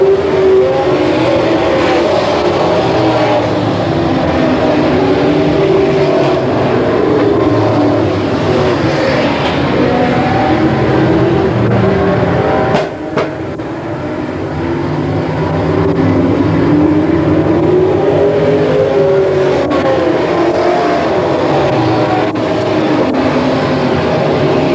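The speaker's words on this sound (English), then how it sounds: "Green flag out. We're underway in racing." Race cars roar off at the start of a race at Willamette Speedway, a loud sustained pack of engines revving and droning as they pass, with the pitch rising and falling.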